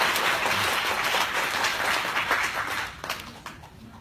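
Applause from an audience fills the space, a dense steady wash of many hands clapping at moderate loudness that gradually thins and fades toward the end, with no one speaking over it.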